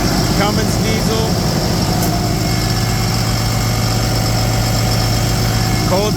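A Cummins diesel engine idles in a 2010 Freightliner M2 asphalt patch truck, a loud, steady low rumble with constant vibration that continues unchanged throughout.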